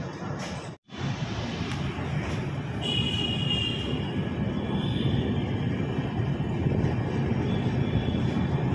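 Express train pulling away from Maninagar station on the run into Ahmedabad, a continuous rolling rumble heard from inside the coach that swells gradually, with a faint high whine partway through.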